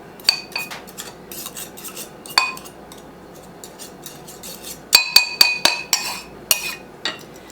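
A knife scrapes and clinks against a bowl while stirring a thick broiled topping for an oatmeal cake. The sharp metallic taps come in irregular bursts and cluster rapidly near the end, close and clear.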